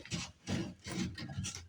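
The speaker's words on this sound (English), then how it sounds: "Going to get all the burrs off because this will be a burr in the drain line." Rasping strokes of a deburring tool scraping the cut edge of a plastic drain pipe during plumbing work, four close, even back-and-forth rubs at a steady rhythm.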